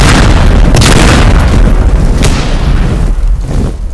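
Gas tanks blowing up in the game Teardown, a loud, sustained booming rumble with dense crackling that rolls on for several seconds and gradually thins out.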